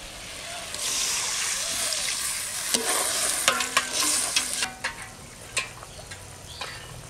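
A spice masala sizzles and fries in a pot at a village cooking fire while a spoon stirs, and poured water brings a burst of hissing followed by scattered clinks and sloshes.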